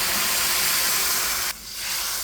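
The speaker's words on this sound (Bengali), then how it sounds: "এখানে এই যে জলটা দেওয়ার লগে লগে ফুটে উঠেছে।" Hot water poured into a pan of frying masala for a koi fish curry with pumpkin greens, a loud steady sizzling hiss that briefly dips near the end, then surges again.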